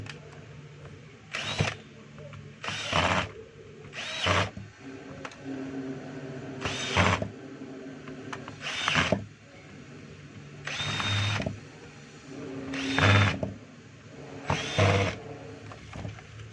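A DeWalt DWD022 3/8-inch hammer drill being tested on a workbench, whirring in about nine short bursts of one to two seconds each, separated by quieter gaps with faint background noise, close and fairly loud.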